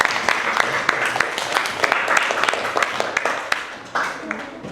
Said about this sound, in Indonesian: kita berikan tepuk tangan untuk kelompok 2